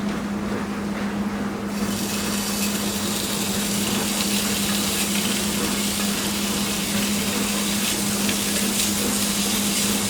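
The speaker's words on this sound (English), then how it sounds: "take my bacon here, and I'm going to go ahead and start sauteing this up" Bacon sautéing in a pan for chicken and broccoli Alfredo, a steady loud sizzle and crackle that holds evenly throughout over a low constant hum, with no talking.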